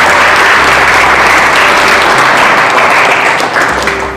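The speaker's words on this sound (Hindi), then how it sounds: "ताली बजा रहे तो पूरा बजाइए।" An audience at a Hindi church service applauds loudly and continuously for about four seconds, a dense, steady wash of clapping with no voices over it.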